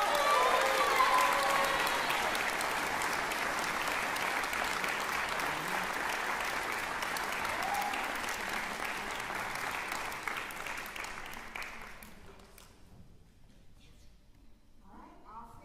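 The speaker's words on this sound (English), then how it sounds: "let's give another round of applause" A commencement audience claps in a dense, sustained round of applause, loud and even for most of the stretch before thinning and fading out near the end, with a few faint voices underneath.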